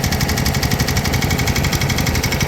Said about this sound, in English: we've got the Southern Cross driving the 32 volt generator.